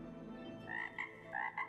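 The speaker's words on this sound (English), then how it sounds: "No, it's the second frog sound." A single frog croaks in short bursts, several quick low rasping calls a little apart, faint and alone over a quiet background hum.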